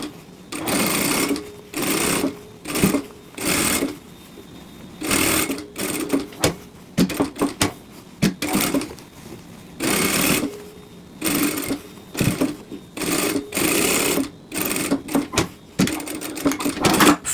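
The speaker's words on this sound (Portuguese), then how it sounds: "Aqui eu tenho a minha abertura, tanto desse lado quanto do outro, então só vou passar a costurinha aqui agora." Domestic sewing machine stitching a Christmas craft piece, running in repeated bursts of fast rhythmic whirring with short pauses between seams, close and fairly loud, no talking.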